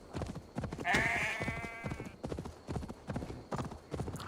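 A sheep in the Assassin's Creed Valhalla video game lets out one clear, wavering bleat near the start, standing out over steady hoof clip-clop and game sounds.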